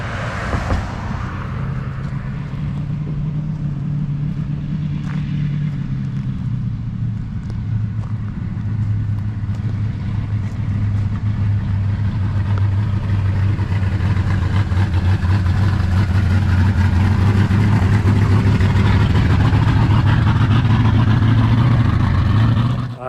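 A Chevrolet S-10 pickup truck engine with new spark plugs, freshly worked carburetor, running steadily at a loud, close, continuous idle with slight shifts in pitch and no talk over it.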